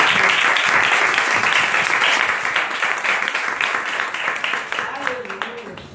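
A church congregation gives a sustained round of applause for the Lord during an evangelical service, loud and dense throughout and tapering slightly near the end, with voices mixed in.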